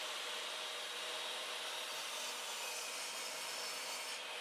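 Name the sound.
hand saw cutting wood for a mitered picture frame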